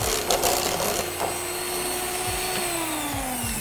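An electric mixer whirs steadily as it beats mocha nougat roll cake batter, a continuous close motor drone with a slight pitch shift partway through.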